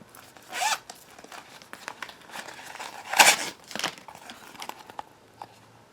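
A soft white silicone pouch comes out of its plastic packaging with close, irregular crinkling and rustling, plus a few sharper tearing bursts, with no talk.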